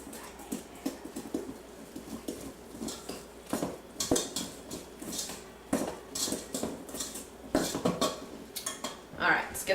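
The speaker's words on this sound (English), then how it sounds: "let's go ahead and dump this in and mix it by hand so that it doesn't fly everywhere" Brioche dough being mixed by hand with warm milk in a bowl, giving repeated soft wet slaps and clinks against the bowl in an irregular rhythm, close and moderately loud, with no talking.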